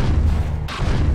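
A gravity gun in Half-Life 2, running the FakeFactory Cinematic Mod, fires a jolt. It comes through as a brief, heavy, low booming thump with a sharper burst near the end.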